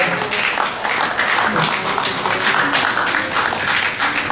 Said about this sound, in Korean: 자, 박수로 환영해 주세요.